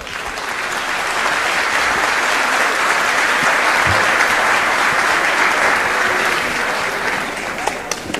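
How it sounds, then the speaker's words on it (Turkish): Sustained, enthusiastic applause from a concert audience at a tribute concert by the Antalya Metropolitan Municipality band and city orchestra, a thick, even wall of clapping that swells and holds before tapering off slightly at the end. "Coşkulu alkışlarınız."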